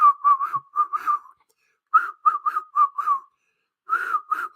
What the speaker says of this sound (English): I'm whistling, right?